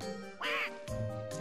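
Cartoonish duck quacks from the Mario Party 4 video game, two loud nasal quacks in quick succession over steady game music, no talking.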